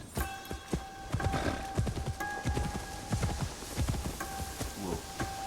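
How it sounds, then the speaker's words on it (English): Horse hooves clip-clop steadily at close range in the video game Assassin's Creed Shadows, a rhythmic walking gait of sharp knocks over a bed of game music and ambient tones. "Come here, Barcy Horse"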